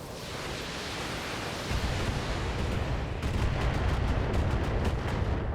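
Mechs trade weapon fire in the BattleTech video game, a dense roar of booming cannon and missile blasts, followed by a rapid run of sharp repeated shots over a noisy, continuous background.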